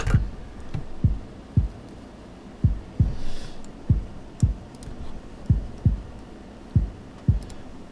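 Kick drums in a music mix, drenched in reverb: about a dozen punchy low thumps at an uneven beat pattern, each trailing a short wash of room tail, with no voice.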